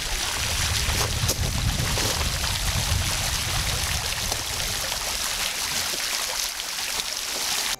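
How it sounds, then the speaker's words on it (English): Natural spring water in the Capon wilderness flows steadily in a continuous, rushing trickle. The sound is close and even throughout, with no voices. "I heard somewhere in the Capon wilderness there's natural spring water"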